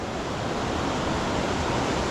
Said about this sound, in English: the water's running down here, gushing down